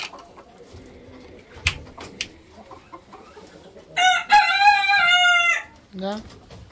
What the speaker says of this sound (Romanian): 3 găini, o familie de australor cu 3 găini, una neagră, două albastre, aia e mai ciufulită, cocoș un exemplar superb